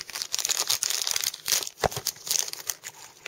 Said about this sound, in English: let me go ahead and unwrap her